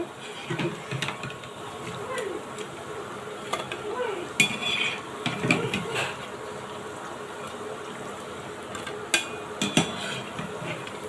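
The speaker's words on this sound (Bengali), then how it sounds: "এবার পকোড়াগুলোকে আমি উঠিয়ে নেব" Fried spinach (pui shak) pakoras are lifted from a frying pan with a faint sizzle underneath, while a metal utensil clinks and scrapes against the pan in irregular bursts.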